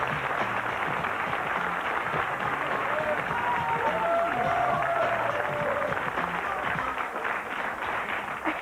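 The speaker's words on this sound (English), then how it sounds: "Give her a round of applause." Talk show studio audience applauding for a guest, a dense, steady wash of clapping that holds at an even level for several seconds, with voices mixed in.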